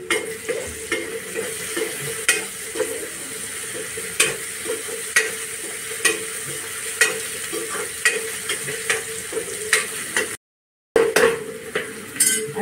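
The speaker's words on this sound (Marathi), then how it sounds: "अर्धा चमचा आले लसणाची पेस्ट टाकते" Ginger-garlic paste and turmeric sizzle steadily in hot oil in a pan for a dry bay prawn and brinjal dish, with repeated scraping stirs and light utensil clinks throughout, close and fairly loud.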